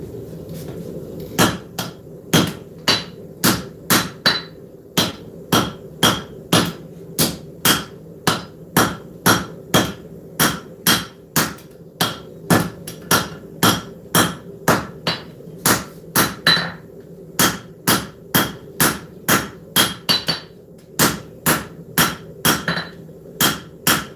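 A hand hammer pounds hot metal in a forge shop, dozens of loud, sharp ringing blows in a fast, fairly even rhythm, pausing only briefly between short bursts.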